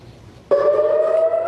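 An air raid siren in Tel Aviv starts abruptly after a moment of quiet and holds a loud, steady wailing tone to the end.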